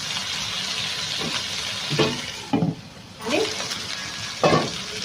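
Water poured into sizzling chicken pulao masala in a hot pan brings a loud hiss and frying crackle, with bursts of stirring scrapes.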